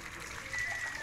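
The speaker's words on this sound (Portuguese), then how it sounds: "Olha como é que isso aqui puxa água, ó." Water gushes steadily from the 50 mm pipe of a windmill-driven pump, a continuous splashing rush close by with a faint voice in the background.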